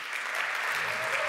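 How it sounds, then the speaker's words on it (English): A crowd applauds a startup pitch at a Madrid venture event, a steady dense wash of clapping hands filling the short moment, moderately loud with no clear voices on top. "Let's give them a big round of applause."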